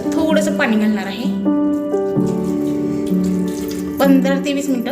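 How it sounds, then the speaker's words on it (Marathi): A small amount of water is poured steadily into a pot of vegetables with green chili and frozen peas for boiling, a loud, close, continuous gush whose tone shifts as the pot fills. "उकडण्यापुरतंच थोडंसं पाणी घालणार आहे"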